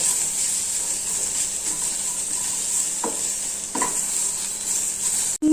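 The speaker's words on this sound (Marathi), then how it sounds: "अर्धा टमाटर घेतलेला आहे, टमाटर टाकत आहे। छान असं मिक्स करून घ्यायचं।" Cabbage, capsicum and tomato being mixed in a hot pan: a continuous sizzle with a few sharp scraping strokes of a spoon, close by.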